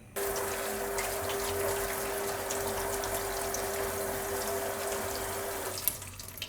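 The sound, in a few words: rinsing cooked chickpeas under running tap water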